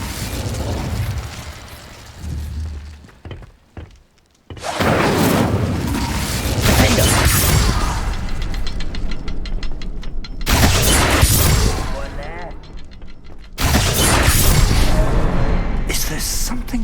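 Incendio fire spells and other combat magic in Hogwarts Legacy erupt as a series of loud, close blasts and whooshing bursts, separated by brief near-silent gaps, with battle noise and effects layered throughout.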